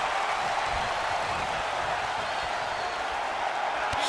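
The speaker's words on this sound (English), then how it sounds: "The sound of this crowd is deafening" A wrestling arena crowd roars in WWE 2K22, a dense constant wash of cheering and noise at steady high volume throughout, with a faint commentary voice underneath.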